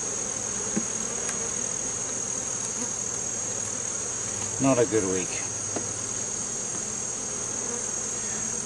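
Honeybees buzzing at a hive during an inspection after a flood, a steady close drone throughout, with a voice muttering briefly partway through.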